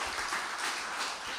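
A church congregation applauds, producing a brief burst of dense, steady clapping from a large crowd.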